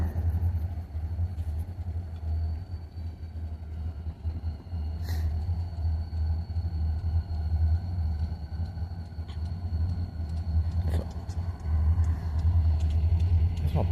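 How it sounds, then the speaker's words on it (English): A vehicle drives by outdoors, a low rumbling engine that swells and fades across the stretch, moderately near, with faint background noise and no talk. "That vehicle went by."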